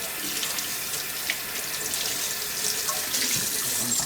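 Water runs steadily from a kitchen tap into a sink while a measuring cup is rinsed out during banana pudding preparation, a soft continuous splashing hiss with no talking.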